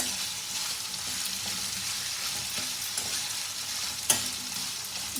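Cauliflower florets stirred in a hot pan for a tomato curry, giving a continuous soft sizzle with faint spoon scrapes and one sharp clink against the pan; no voices.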